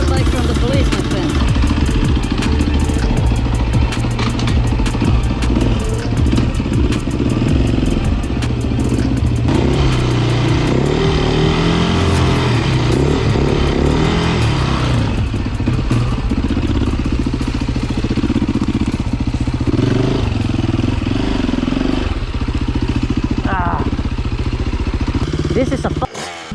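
A 350 dirt bike engine idles with a rough clattering beat and revs up repeatedly, loud and close, for the whole stretch. There is no talk.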